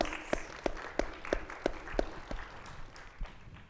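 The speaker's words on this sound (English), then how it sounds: "Can we please have a round of applause for our panelists?" A conference audience applauds its panelists: a few close, sharp claps in a quick steady rhythm stand out over a thinner patter of applause that fades after a few seconds.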